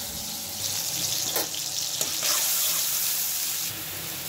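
Potatoes and spices sizzle and fry steadily in a pan while cooking gourd greens with fish head, with a few stirring clatters over the constant crackle.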